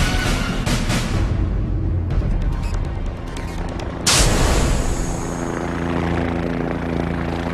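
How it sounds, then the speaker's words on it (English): A helicopter flies close by, its rotor chopping steadily with a loud engine roar that swells sharply partway through. "it's the helicopter. The most versatile flying machine ever invented."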